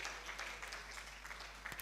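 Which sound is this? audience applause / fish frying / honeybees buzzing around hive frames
audience applause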